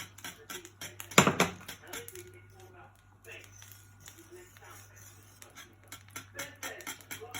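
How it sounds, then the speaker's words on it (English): Coconut milk being stirred into cornmeal porridge in a pot, with a sharp clatter of the spoon against the pot early on, then soft, intermittent scraping and clinking at low volume. "I'm just gonna go ahead and add my coconut milk in. And stir that bad boy in."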